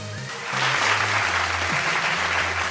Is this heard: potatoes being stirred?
no